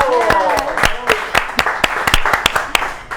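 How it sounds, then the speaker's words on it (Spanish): A television studio audience welcomes a guest with scattered, uneven hand claps, sharp and close, while voices talk over the start. "la recibimos con un fuerte aplauso"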